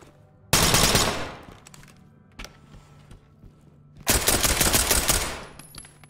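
Full-auto gunfire in Ready or Not, two loud sustained bursts with a brief single shot between them, close and sharp, separated by quiet pauses.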